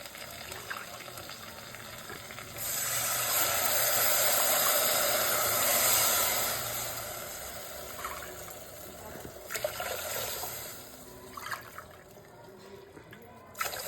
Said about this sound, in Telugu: నాలుగు కప్పుల నీళ్లు పోయాలి